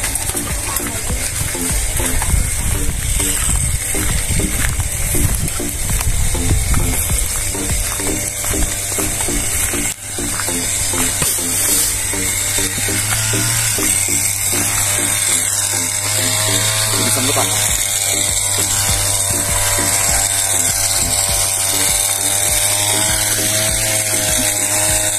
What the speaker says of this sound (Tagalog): Para po ipakita sa inyo aktual na pagbibigyo ng pagbobomba, tingnan po natin yung ating nagbobomba.